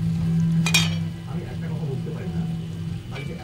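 Cashew and ginger paste being stirred in a pan: one sharp metallic clink from the spoon, then soft, low scraping over a steady kitchen hum.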